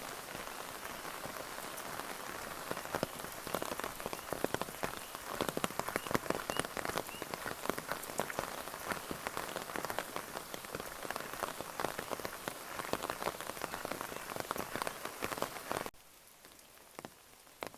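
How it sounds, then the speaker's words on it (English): Steady rain patters densely on a surface, continuous and close, fading to quieter drips at the end, on the Appalachian Trail at Dennis Cove. "And it's raining."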